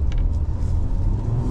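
A VW Amarok pickup with the 3.0 V6 TDI diesel accelerating, a brief close, deep engine rumble that stays steady and loud with no talk over it.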